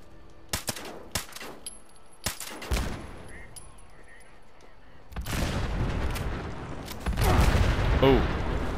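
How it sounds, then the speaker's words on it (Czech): Fireworks and explosions in the video game Fallout 76: a few sharp detonations early on, then a long rumbling barrage of booms and crackles building louder toward the end, with a voice talking now and then. "Ale mohl bych jim tady udělat ohňostroj."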